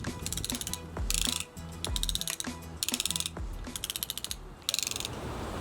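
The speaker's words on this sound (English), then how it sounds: "and that's a ratchet." A ratchet on boat scaffolding clicks in rapid, even bursts of sharp metallic ticks, several repeated strokes up close with short pauses between, with no talk over it.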